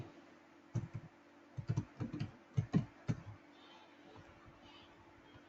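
SQL code tapped out on a computer keyboard: bursts of quick, close key clicks in clusters with short pauses between them, then quieter trailing taps.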